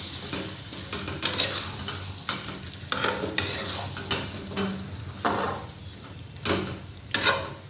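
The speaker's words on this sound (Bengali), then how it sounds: "এটা আপনার নাড়াচাড়া করে দেবো।" Mutton is stirred in a cooking pot on the stove, a spoon scraping and clattering against the metal in irregular bursts over a soft background sizzle, close and moderately quiet.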